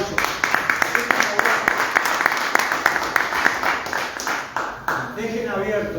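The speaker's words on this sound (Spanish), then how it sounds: "Lo recibo con un aplauso." A seated audience at a lecture on pension reform breaks into dense, even applause to welcome the speaker, clapping steadily for about five seconds before it gives way to talking near the end.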